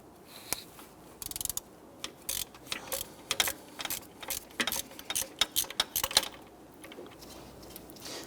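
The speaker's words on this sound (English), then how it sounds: "We're going to use our swivel head ratchet and our 14mm deep socket." A swivel head ratchet with a 14mm deep socket removing a bolt on a 1992-1996 Toyota Camry 2.2L, giving quick runs of close, crisp clicking in irregular bursts with faint background noise.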